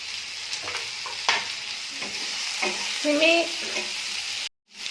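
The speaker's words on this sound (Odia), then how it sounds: "ସିମେଇ ମଧ୍ୟ ଏଇ ତେଲ ସହିତ ଭାଜି ହେଇଯିବ" Vermicelli fries in oil with vegetables, a steady sizzle punctuated by scraping stirs of a spoon in the pan, ending in a sudden cut to silence.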